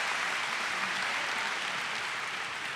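An audience at a school awards ceremony applauds the junior class, a continuous, even roar of clapping that holds steady from start to finish with no break.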